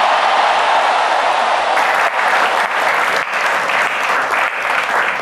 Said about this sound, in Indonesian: pernyataan Pak Prabowo langsung disambut tepuk tangan, setuju begitu kata audiens yang ada di acara Golkar kemarin